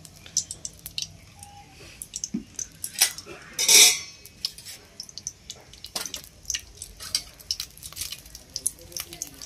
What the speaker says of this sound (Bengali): শুকনো লঙ্কা লাল লাল করে ভাজা হয়ে গেছে